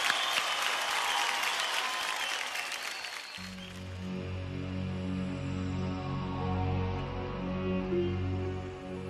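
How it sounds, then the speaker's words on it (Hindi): A burst of audience applause on a televised singing-competition stage, dense clapping for the first few seconds before giving way to sustained tonal music with a low hum. "जोरदार तालियां हो जाए मनोज जी के लिए।"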